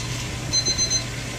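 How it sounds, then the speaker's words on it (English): Kitchen timer going off in a home kitchen, a short run of four high, rapid electronic beeps in a quick rhythmic pattern, clear over a low steady room hum. "That's my timer going off."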